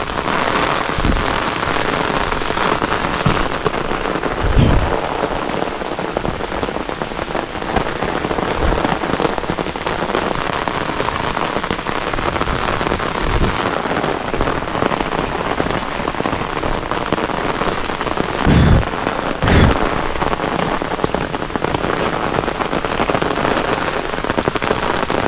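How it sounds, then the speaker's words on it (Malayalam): Heavy rain pours steadily at a hilltop viewpoint, a loud, dense hiss of drops on surfaces lasting throughout, with a few dull thumps rising out of the downpour. "ഫുള്ള് മഴയാണ്."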